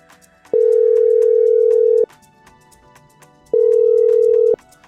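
A telephone dial tone sounds in two loud steady bursts, the first about a second and a half long and the second about a second, separated by a quiet gap with faint background noise and no speech.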